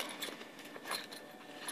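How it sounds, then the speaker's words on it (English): A set of keys from a police officer's duty belt jangles softly in a steady, faint metallic rattle, heard alone without speech. "Keys in here. There they are."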